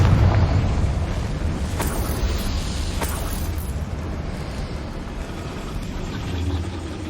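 A Confringo fire spell bursts in Hogwarts Legacy: a heavy rumbling blast that starts loud and slowly tails off, with a couple of sharp crackles partway through.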